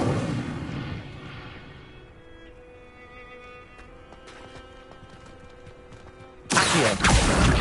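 Incendio fire spell cast in Hogwarts Legacy on PS5: a loud whooshing burst opens, fades into ringing magical tones and sparkling crackles, then a second sharp, forceful blast of flame erupts near the end.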